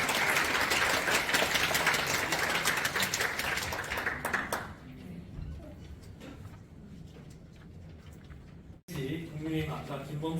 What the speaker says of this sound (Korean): 다시 한번 뜨거운 박수 부탁드립니다